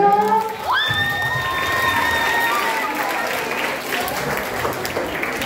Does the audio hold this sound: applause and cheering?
yes